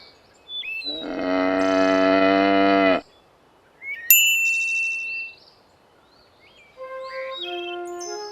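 A cow gives a long, loud, close moo lasting about two seconds, followed by quieter animal calls and bright chiming tones after pauses of silence.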